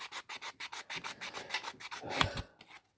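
Steady back-and-forth rasping of wet-and-dry sandpaper used mostly dry on a hard plastic die-cast model part, about a dozen even strokes, close and fairly quiet.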